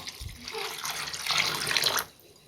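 Water poured into a bowl of soaked chana dal, a close, splashing stream rising for about two seconds before it stops, with no talk over it.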